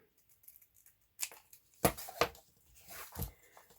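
Scissors snip around a craft-foam label frame in a few separated cuts, close and fairly quiet, with short crisp bursts between pauses.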